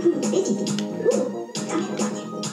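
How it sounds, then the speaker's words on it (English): Twin dogs bark in the Luigi's Mansion video game, a repeated run of yapping barks and whimpers over busy game music and effects, fairly loud and steady throughout. "Twin dogs."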